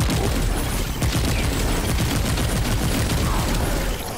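Rapid gunfire from a gun in the Remnant 2 video game, a loud, steady stream of quick overlapping shots with booming impacts, sustained throughout with no speech.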